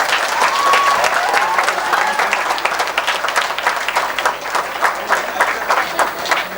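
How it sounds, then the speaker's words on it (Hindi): An audience applauds at a school mushaira and prize ceremony in a college auditorium: loud, dense, sustained clapping from a large crowd that continues for the full stretch and thins slightly toward the end. "एक बार अनवर ज़िया साहब के लिए बहुत जोरदार ताली।"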